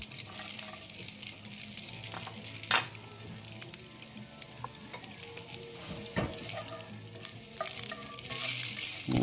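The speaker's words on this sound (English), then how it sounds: "we want to put our garlic in so we can start seasoning up the oil" Garlic fries in oil in a cast iron pan before rib eye steaks go in, sending up a steady close sizzle with a few clinks and scrapes of a utensil.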